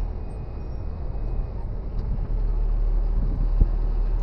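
A pickup truck drives across a bridge, giving a steady low road and engine rumble mixed with wind buffeting that swells slightly midway, with no clear talking.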